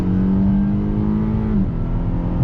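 Naturally aspirated inline-four of a 2020 Acura TLX A-Spec pulling hard on a wet road, a steady loud engine drone holding pitch then dropping sharply as a crisp upshift lands, with road roar underneath.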